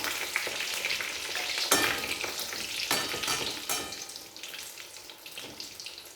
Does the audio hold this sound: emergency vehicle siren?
no